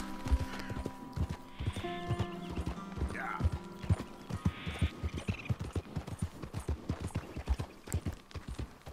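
Horse hooves clip-clop at a steady walking rhythm in the Red Dead Redemption 2 video game, close and fairly quiet, with a brief whinny and faint ambient sounds alongside.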